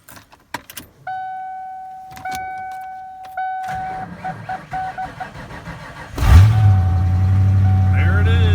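1982 Volkswagen Rabbit truck, long unused, coming to life on a cold start: keys jangling and ignition chimes, a cranking attempt, then the engine catching and settling into a loud steady idle, with someone talking briefly.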